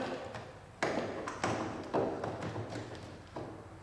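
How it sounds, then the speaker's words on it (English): A small water hookup compartment door on an RV being opened, a few sharp taps and clicks of latch and hatch, quiet and close, spaced irregularly over several seconds. "Open the little door."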